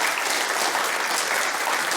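An audience at a Conservative political talk claps in steady, dense applause throughout the brief moment, loud and close, with no other sound standing out.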